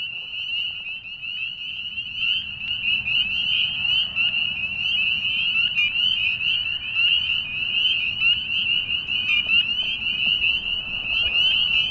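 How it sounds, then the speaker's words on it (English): Male spring peepers and western chorus frogs calling together in a dense, continuous outdoor chorus, with high repeated peeps layered over rasping trills and faint background noise throughout. "All these calls are male frogs trying to coerce the ladies to come over and hang out with them"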